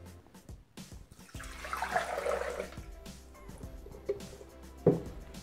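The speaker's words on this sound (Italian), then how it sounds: "adesso versiamo all'interno del boccale l'acqua" Water pours into a Thermomix bowl in a gurgling, splashing stream of a few seconds, followed by a couple of soft knocks and a drip, heard up close with no talking.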